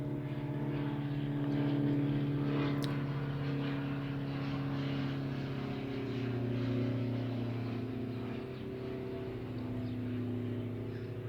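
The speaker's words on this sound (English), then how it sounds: "I just let the plane go over while we explore it" Airplane passing overhead, a steady droning engine hum with layered low tones that swells slightly and then holds, moderately loud and with no voices.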